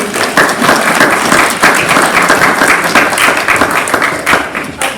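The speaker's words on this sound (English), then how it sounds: "Let's give him a round of applause" Audience at a school careers evening clapping loudly and continuously, a dense room-filling round of applause lasting the whole moment with no talk over it.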